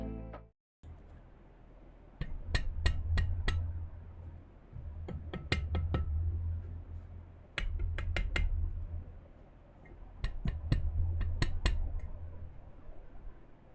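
A Lucky65 V2 mechanical keyboard is typed on in quick bursts of crisp, clacky keystrokes, some with a slight metallic ping from the case, separated by short pauses and heard up close without talking.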